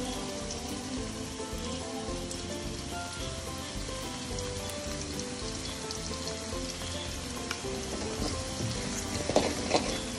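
Chili powder sizzles in hot oil during the making of a hog plum pickle, a quiet and even crackling fizz that continues throughout with a few sharper pops near the end.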